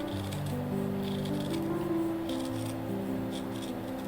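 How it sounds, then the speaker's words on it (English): Scissors cut round shapes out of leather for a small emoji bag charm, a few soft snipping crunches spread over a few seconds, fairly close and quiet, with no talk. "So first I have to cut the round shapes."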